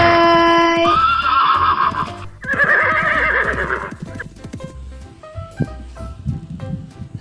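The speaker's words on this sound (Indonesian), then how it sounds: "Lause, Lili, naik kereta kuda anak-anak." A horse drawing a carriage gives a loud, close neigh and whinny, followed by clip-clop hoofbeats and rattling as it moves off, the sound easing and thinning toward the end.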